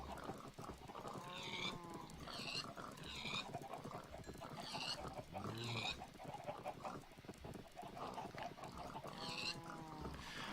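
Pigs and other farm animals in the Minecraft FTB Void World modpack give repeated grunting and oinking calls from a crowded pen, overlapping in a busy, steady chorus with no one talking.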